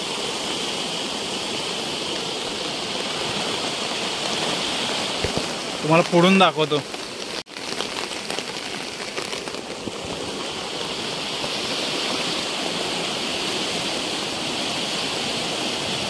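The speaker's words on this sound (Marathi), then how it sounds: "पाणी आलंय नदीला." A muddy, flooded village river swollen by heavy rain and carrying logs rushes in a loud continuous roar, with someone speaking briefly over the water partway through.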